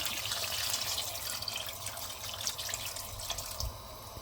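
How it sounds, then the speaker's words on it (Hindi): Water is poured into a pot of browned beef paya, giving a steady, close splashing rush that runs unbroken and fairly even in level, with no voices. "अब इसमें पानी डाल देंगे, पूरे कवर कर देने हैं।"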